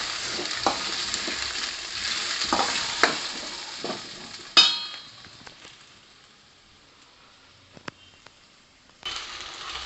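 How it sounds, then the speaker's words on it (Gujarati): A spoon stirs and scrapes vegetables and potatoes for Schezwan potatoes in a pan, with soft sizzling and several clanks against the pan, a sharp knock midway, then a quieter stretch before stirring resumes. "એડ થઈ જાય ત્યારબાદ એકવાર બધું સારી રીતે આ રીતે ચલાવી લઈશું."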